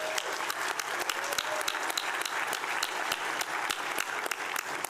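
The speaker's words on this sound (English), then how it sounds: "Let's give them a round of applause, please." Steady, dense applause from the audience at a Super Bowl breakfast event, with many hands clapping close and continuously for about five seconds and some faint crowd murmur underneath.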